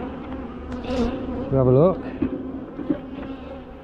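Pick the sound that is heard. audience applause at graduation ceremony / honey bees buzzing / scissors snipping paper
honey bees buzzing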